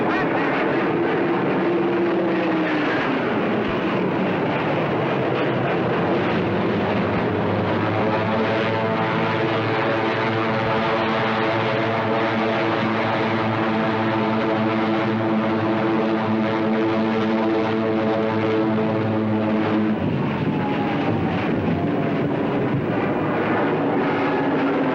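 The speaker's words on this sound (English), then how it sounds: "5 squadrons of Hurricanes and Spitfires rose to the occasion and took to the skies" Hurricane and Spitfire fighter planes drone overhead in a Call of Duty game, a sustained throbbing propeller roar with engine tones that bend in pitch as the aircraft pass, continuous and loud for the whole stretch.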